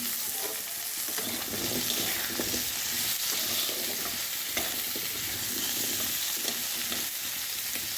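Potatoes frying in a pan, a steady dense sizzle with occasional stirring scrapes, close and continuous throughout with no talking.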